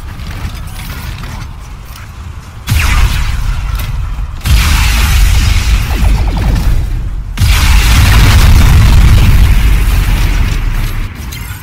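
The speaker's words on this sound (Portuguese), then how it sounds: "Eles também soltaram aqui, ó, uma prévia do som que vai ter o tiro." Rail weapon shot sound preview from the game Robocraft: loud mechanical charging and clanking with heavy booming bursts, building in stages over about eleven seconds, no talk.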